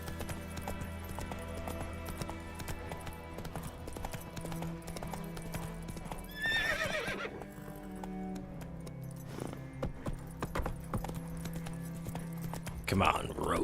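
Roach the horse in The Witcher 3 keeps up a steady run of hoofbeats under game music and some talk, with a brief high whinny in the middle and another near the end.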